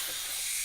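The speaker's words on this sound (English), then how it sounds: "I just love the power of steam." A pressure cooker vents steam in a loud, steady hiss, brief and close, with no voices.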